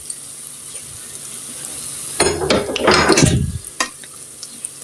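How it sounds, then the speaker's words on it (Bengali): Fried pantua is lifted out of hot oil: a steady sizzle runs underneath, then a burst of bubbling, scraping and clinking of a utensil against the pan partway through, fading back to soft frying. "এটি ভাজা হয়ে গেছে, এখন আমি এটি উঠিয়ে নিব"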